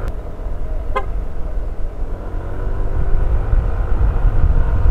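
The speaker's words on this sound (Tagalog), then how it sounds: "Yan, isang busina." A single brief car horn toot on a provincial road in Tabogon, Santa Elena, Camarines Norte, sounding once near the start over steady, loud road and engine rumble from a moving ride.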